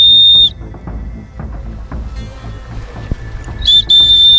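A sharp, steady whistle blows loud and close as a signal for someone to follow, one long blast, then a low rumbling outdoor background, then a second long blast near the end.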